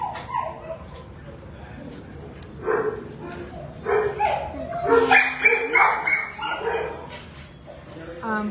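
Several small dogs at an animal shelter bark, yip and whimper in a quick, irregular run of overlapping calls. The barking is loudest in the second half, and people talk nearby.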